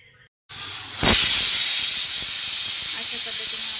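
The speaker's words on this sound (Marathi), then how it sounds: "अशा पद्धतीने आपण कुकरच्या 3 ते 4 शिट्ट्या काढून घेणार आहोत." A pressure cooker holding mutton biryani lets out its whistle in a sudden loud burst of hissing steam that rushes on steadily after a quiet start, close by.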